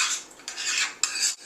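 A utensil scrapes and clinks against a bowl while stirring a peppery mustard sandwich sauce, in three quick close strokes.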